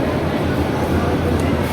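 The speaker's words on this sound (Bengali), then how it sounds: "এই যে আমাদের ট্রেন, আমরা নেমে গেছি" A steady low rumble and broad hiss fill a railway station platform beside a just-arrived AC chair car train, with a constant, loud, even drone throughout.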